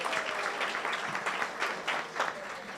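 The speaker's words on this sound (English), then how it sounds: "A round of applause again for Mr." Audience in a conference centre plenary hall gives a sustained round of applause, dense and fairly loud clapping from many people with a few sharper bursts, no speech over it.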